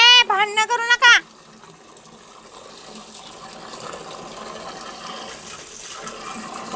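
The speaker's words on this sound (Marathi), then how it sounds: "डायरेक्ट मोटर चालू करायचं आणि गायांना पाणी पाजायचं" Motor pumping fresh water into a tub for two cows to drink, a steady gushing flow that is soft and continuous after a brief burst of voice at the start.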